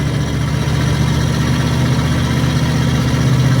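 An RV crawling through Orlando traffic at about 15 mph, its engine giving a steady low rumbling drone with constant vibration and no rise in revs, heard from inside the cab without speech.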